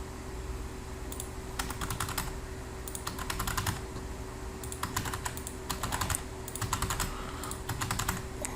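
Keys clatter on a computer keyboard as text is typed into an editable web table cell, in quick bursts of close, crisp keystrokes separated by short pauses.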